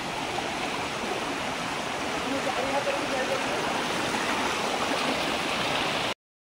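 Water from the Baba Jatadhari waterfall, running with little flow, pours in a continuous, even rushing roar close by, steady until it cuts off abruptly near the end.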